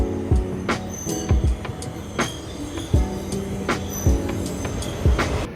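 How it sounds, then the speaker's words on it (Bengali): A metro train in Luxembourg rolls along with a sharp clack from the rails every second or so over a constant mechanical rumble, close and fairly loud. "মেট্রো চলে এসছে এখন আমি উঠে বসবো"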